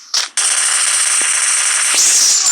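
Gunfire in a battle royale shooter, a sharp burst followed by a sustained loud, harsh blast of shooting and noise, close and dominant throughout.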